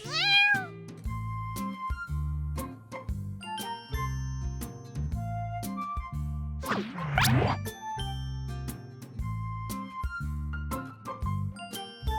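A cat meows in the video game Love and Deepspace, with a series of short mews at the start and again around the middle, set against a steady, jingling game music loop.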